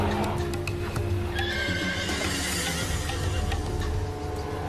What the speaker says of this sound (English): The horse, appropriately named Tuffy, struggles to free herself as her worried owner watches helplessly.